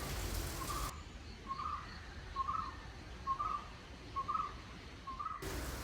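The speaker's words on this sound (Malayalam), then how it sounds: "അപ്പോൾ നല്ല കിളികളുടെ സൗണ്ട് കേൾക്കാല്ലേ" Birds calling on a morning walk outdoors: a single short chirping call repeats about six times at a steady, evenly spaced rhythm, faint and somewhat distant over a soft background hiss, with no talk.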